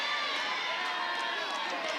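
Crowd at a women's college softball game at Rhodes on a cold day, with a continuous murmur of spectators and faint scattered calls under a commentator's voice.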